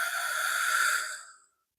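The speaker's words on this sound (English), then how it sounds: "Breathing." One long, steady breath drawn out during a gentle yoga stretch, close and soft, trailing off at the end, no talking.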